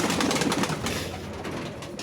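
A flock of pigeons coos steadily and close by while being fed outdoors in hard frost, with overlapping calls and no voices.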